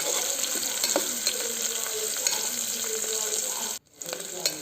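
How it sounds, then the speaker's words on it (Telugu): Ingredients for a menthya sweet corn bath fry in a pan until browned, giving a steady close sizzle with faint stirring clicks, briefly cut off near the end before resuming. "బ్రౌనిష్ కలర్ వచ్చేంతకు దీన్ని వేయించుకుందాము"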